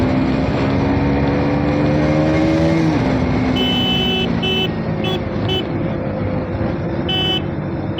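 A KTM Duke motorcycle ridden at high speed on a night ride gives a loud, close engine drone with a rising then dropping tone, wind rush throughout, and a few short horn toots from other traffic.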